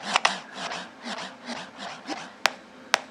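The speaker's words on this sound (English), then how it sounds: "scratch by moving the deck back and forth" DJ scratching on a Pacemaker app deck on a PlayBook tablet, a run of rhythmic back-and-forth rubbing swipes, fairly close, with two sharp clicks near the end and no talking.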